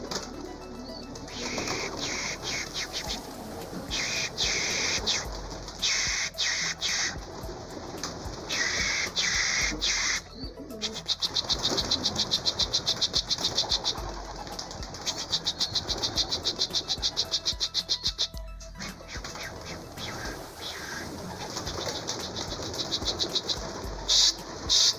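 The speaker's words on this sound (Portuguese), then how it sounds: "já estamos aqui na rua, filmando os pombos." A flock of pigeons on a street flaps and coos over about 25 seconds, with steady outdoor noise and rising bursts of wingbeats as birds take off and circle overhead.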